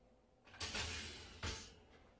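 A Rational combi steamer oven door swung shut, giving a broad whooshing sweep and a firm thud as it seals, then a softer second settle, close and alone.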